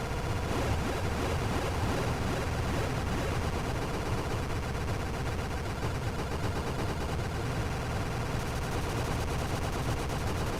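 Continuous dense shooting from the arcade shoot-'em-up Eschatos, a steady wall of rapid fire and blasts mixed with game music, unbroken for the whole stretch with no voice.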